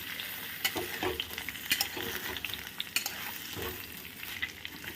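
Mango pieces sautéed with spices and oil in a pan for sweet mango pickle: a steady low sizzle with irregular scraping and clinking stirring strokes, close and unaccompanied by talk.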